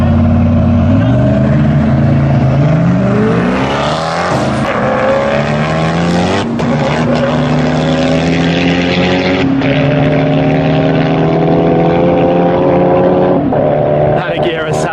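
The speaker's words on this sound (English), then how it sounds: "That Agera sounds good. That sounded really good." Koenigsegg Agera hypercar engine at full load in a drag race, a loud sustained roar with rising harmonic sweeps through repeated gear changes, close and dominant throughout, with crowd voices faintly underneath.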